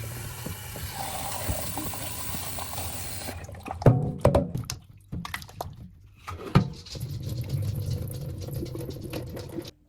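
Sweet potatoes washed under running tap water, a steady stream that gives way to splashing, knocks and dripping as the tubers are rubbed and handled, with no talk.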